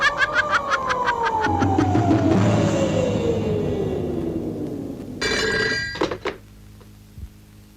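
A telephone rings in a 1988 Indonesian horror film, a loud repeating electronic bell in rapid bursts over a low rumble, alone and close, then cutting off near the end.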